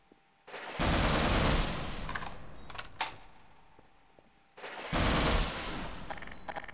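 Gunfire in the first-person shooter Half-Life comes as two loud, dense bursts of close-range shots, the first with a longer rattling tail and scattered metallic clatter, the second starting a few seconds later.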